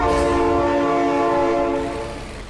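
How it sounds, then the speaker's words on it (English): A loud, sustained train horn blares close by over rumbling rail noise, then begins to fade. "Oh my god, train!"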